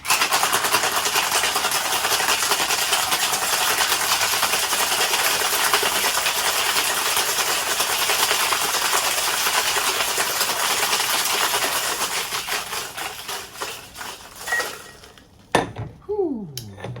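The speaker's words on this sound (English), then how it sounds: "And let's give it a good shake." A cocktail shaker full of ice shaken hard: a loud, continuous close rattle of cubes against metal for about fourteen seconds, then a few final knocks and a brief squeak as it stops.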